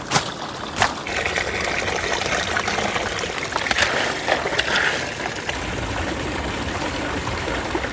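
Water trickling steadily from a natural mountain spring channelled through a concrete drain, a close, continuous gentle splashing with a few sharp knocks near the start, no voices.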